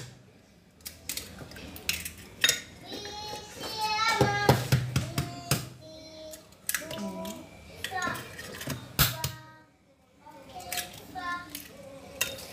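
Eggs and mixing bowls are handled in a home kitchen while preparing a traditional semolina cake, producing scattered clinks, taps and knocks of shell on bowl and utensils, spread through the clip with a voice talking over the clatter.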